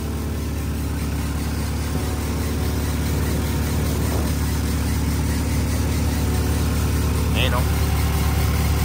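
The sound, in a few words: squeaky worn alternator bearing on idling 1999 Honda Civic SiR engine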